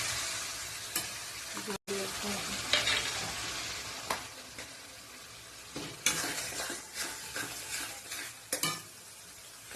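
Potatoes frying in a pan as bay leaves go in for tempering, a soft steady sizzle with a spatula scraping and stirring in repeated strokes, quiet and close.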